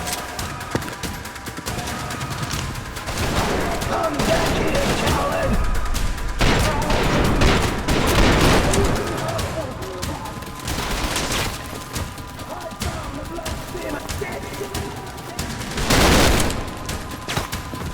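Dense gunfire in the Trepang2 first-person shooter on PC, with rapid automatic bursts, loud blasts and crashes in an almost continuous barrage and a voice talking over the action.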